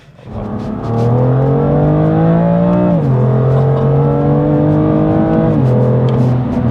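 A tuned 500-horsepower BMW M2 Competition engine roars up to a strong, steady drone and climbs in pitch, dropping at each gear change before climbing again, loud and close.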